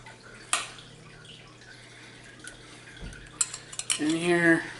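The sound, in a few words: roasted vegetables transferred back into pan with chickpeas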